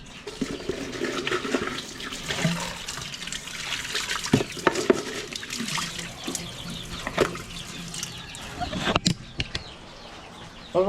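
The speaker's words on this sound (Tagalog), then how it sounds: "So magtitimpla lang tayo ng kalamansi." Calamansi juice is mixed with water, giving splashing and trickling liquid sounds with scattered clinks and pours over about ten seconds. Bursts are irregular, close and moderately loud.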